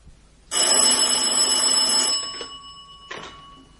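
A telephone bell rings loudly for about a second and a half, falls silent, then starts a second brief ring.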